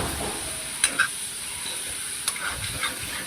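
A sabudana bhujiya mixture with potatoes fries in a pan, giving a steady hiss and sizzle with a few brief scraping stirs and clicks, close and moderately quiet.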